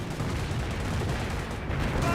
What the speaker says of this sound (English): Massive mortar hits there.